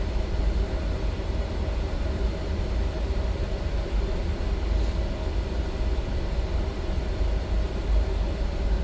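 An E-Jet airliner taking off in Microsoft Flight Simulator 2024 at London City: a steady, loud jet engine roar with a broad rumble that holds level all the way through, with no talk.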